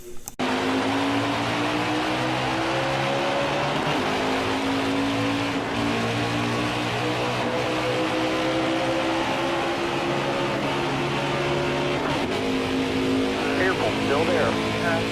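Stock cars racing the opening lap at Talladega in Nascar Heat 5, a dense, continuous engine roar with steady pitch shifts that runs the whole length, while a voice talks over it.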